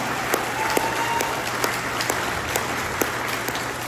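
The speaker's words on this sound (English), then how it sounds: "So let's give them a round of applause." An audience at a ragtime festival's Saturday night concert in Sutter Creek claps steadily and fairly loudly throughout, a dense even wash of applause with a few sharper claps standing out.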